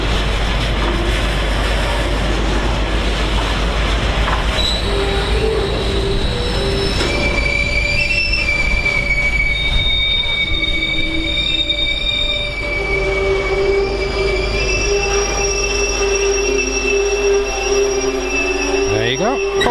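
An East Midlands Railway class 158 unit, 158866, pulls into a station platform with loud, sustained high-pitched wheel squeal over steady rumbling, the squeal shifting in pitch and continuing for the whole stretch as it comes to a stop.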